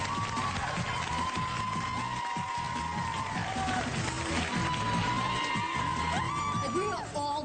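Studio audience applause and cheering at a reality show taping, a dense steady roar of clapping with whoops and shouts running throughout, loud and continuous with a voice or two rising above the crowd.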